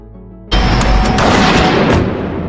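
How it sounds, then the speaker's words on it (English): A single sharp gunshot in a crime drama film scene bursts in after a low tonal hum, then rings out with a loud, sustained booming tail and a couple of crackling echoes. "he grabs a gun and prepares to shoot Richie, who shoots him to death, pulling the trigger on his own gun"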